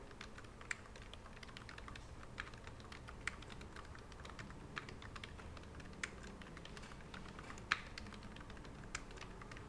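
Keys on a computer keyboard are tapped steadily while text is entered into a CAD drawing, giving faint, quick clicks with a few sharper, louder strokes in a quiet room.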